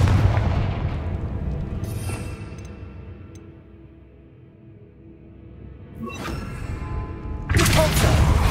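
A Confringo fire-spell blast in the Hogwarts Legacy video game starts as a loud, rumbling boom that slowly fades, then sharp crackling hits and a heavy burst come near the end.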